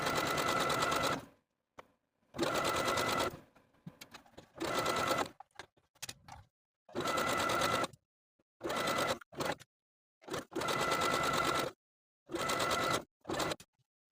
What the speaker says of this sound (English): We're going to use a 3-step zigzag stitch to sew close to the picot edge of the elastic